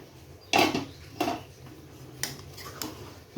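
A metal lid settles onto a pan of fried chicken gizzards in a home kitchen, giving a sharp clatter and then a few softer, spaced-out knocks and clinks, close by with no talking.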